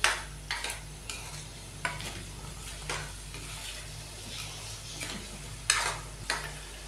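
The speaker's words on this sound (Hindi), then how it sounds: "तो यहाँ पे हम बीफ को 5 मिनट के लिए मसालों के अंदर भुनेंगे पहले।" Beef being fried in spices in a pot for aloo gosht, a low steady sizzle with intermittent scraping and stirring strokes of a spoon against the pan, close and fairly quiet.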